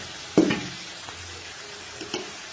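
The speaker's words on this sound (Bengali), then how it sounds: "ওই তেলের মধ্যেই মাংসটাকে দিয়ে আগে ফ্রাই করে নিচ্ছি" Meat fries in hot oil in a pan during home biryani cooking, with a soft steady sizzle broken by a few sharp scraping stirs and clinks near the start and end.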